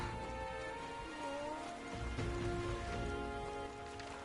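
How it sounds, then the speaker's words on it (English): Rain falls in the fantasy video game Metaphor: ReFantazio as a soft, steady patter, faint and continuous under light tonal game music. "Rain? What am I gonna do?"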